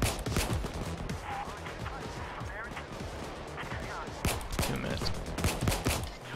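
Gunfire in Payday 2 during a diamond store heist: rapid, repeated shots crackling steadily throughout amid game clamor, with players talking over it.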